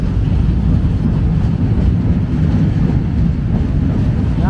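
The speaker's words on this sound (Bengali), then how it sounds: "কর্ণফুলী নদীর উপরে ব্রিটিশ সময় নির্মিত কালুরঘাট সেতুর উপর দিয়ে এখন আমাদের ট্রেন যাচ্ছে" A passenger train crossing the century-old Kalurghat rail bridge over the Karnaphuli River, heard from on board as a loud, continuous rumble with faint rhythmic clatter.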